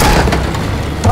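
A grenade explodes in a video game as one loud, deep, rumbling boom that fills the short moment, with a voice mixed in.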